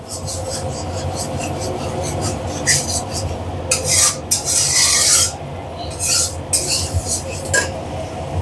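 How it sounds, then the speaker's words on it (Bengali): Spoon stirring and scraping duck egg curry masala frying in a pan, a steady sizzle underneath with loud rasping scrapes in bursts, close up, while a voice speaks briefly. "এবার এটা ভালো করে কষাবো আমি।"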